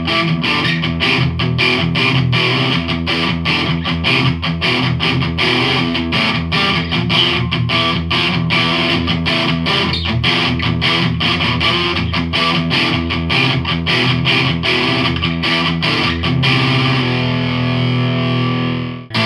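Electric guitar driven through a Behringer OD300 distortion pedal, loud fuzzy riffing with rapid chugging palm-muted rhythm and sustained crunchy chords, ending on a ringing held chord.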